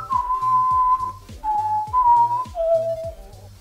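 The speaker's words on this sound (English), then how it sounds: "Are you just flexing because you can whistle and I can't?" One person whistles the melody from the Western film Once Upon a Time in the West, a long held note followed by several shorter descending phrases, close and clear over faint background music.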